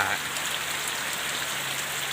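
Steady rain falls over a garden on a gloomy morning, a dense, even hiss of drops on surfaces throughout, close and moderately loud, with no voices.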